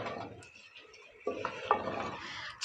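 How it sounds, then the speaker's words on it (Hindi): Chicken karahi with sliced tomatoes and yogurt being stirred in a pot, with soft scraping and clinks of a spoon against metal, a few sharper knocks toward the end, fairly quiet and close with no talk. "सब कुछ ऐड करने के बाद एक बार इसको अच्छे से हिलाएंगे।"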